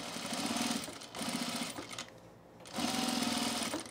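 Sewing machine stitching around a shirt cuff, a close whirring buzz in two steady runs separated by a short quiet pause, with no talking.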